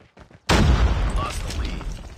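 A grenade going off in a Call of Duty multiplayer match: a sudden loud, close boom follows brief quiet shuffling, then a long rumbling tail fades slowly.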